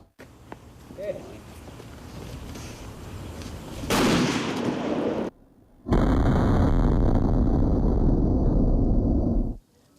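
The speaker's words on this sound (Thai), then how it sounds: "ประทัดปิงปอง หรือระเบิดปิงปองสองลูกนี้ มีอนุภาคการทำลายล้างสูงครับ" Ping-pong firecrackers set off by a police bomb squad during a blast test in Chiang Rai, Thailand: two loud, harsh bursts of noise, each lasting more than a second, separated by a short quiet gap, with a dull background before them.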